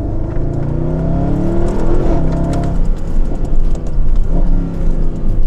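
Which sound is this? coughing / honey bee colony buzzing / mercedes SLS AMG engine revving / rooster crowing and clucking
mercedes SLS AMG engine revving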